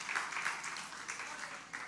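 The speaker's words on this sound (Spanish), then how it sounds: "Dele palmas a Cristo" A church congregation clapping during a sermon: a faint, steady wash of hand claps from many people, heard at a distance.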